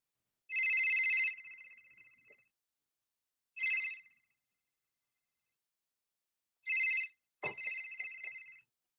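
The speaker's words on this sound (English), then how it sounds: "When the phone rings, I'm ready." A telephone rings in three loud electronic bursts spaced a few seconds apart, then a brief clunk and a shorter fading tone, with no other sounds around it.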